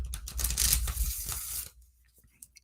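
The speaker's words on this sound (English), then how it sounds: "I try to shuffle very well." Lenormand tarot cards shuffled by hand give a dense, papery riffling rustle for about a second and a half, then fall quiet apart from a few faint taps.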